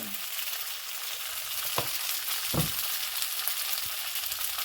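Oil sizzles and crackles steadily in a wok while shrimp pad thai cooks, a close, constant frying hiss broken by a few soft knocks of a utensil against the pan.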